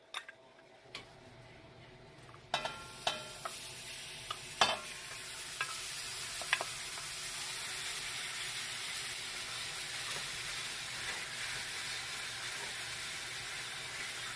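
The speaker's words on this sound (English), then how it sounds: "Now in a pot like this, I'm going to go ahead and add my meat." Pork meat hits a hot pot and starts frying for asado de puerco, a bright hiss rising after a few sharp clinks and taps, then settling into a steady close sizzle.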